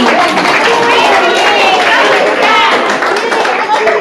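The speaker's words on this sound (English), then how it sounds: "let's give a big round of applause to Maithili." Audience applause and clapping fill a children's activity centre celebration for Sri Krishna Janmashtami, sustained and dense from start to finish, with some crowd chatter mixed in.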